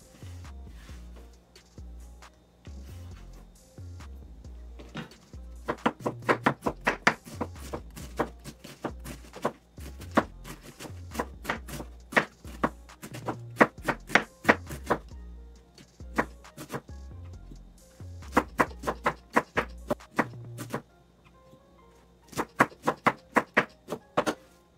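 Knife chopping cabbage on a cutting board, with clusters of quick, sharp thuds in bursts and short pauses between them, close and clear over low kitchen rumble.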